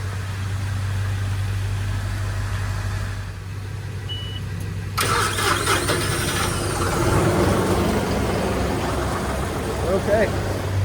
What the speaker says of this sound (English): I'll start up the tractor.